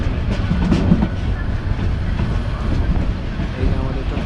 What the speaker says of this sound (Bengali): চট্টগ্রাম স্টেশনে ঢুকতেছে আমাদের ট্রেন